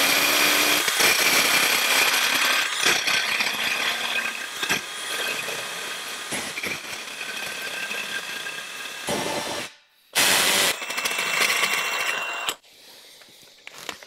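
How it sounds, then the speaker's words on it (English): A power drill whines and grinds as a step bit bores through aluminum, steady and close, with brief pauses and a final spin-down. "We'll start working our way up to the 5/8 size."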